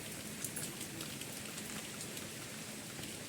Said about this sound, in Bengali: আর বাইরে বৃষ্টি হচ্ছে দেখো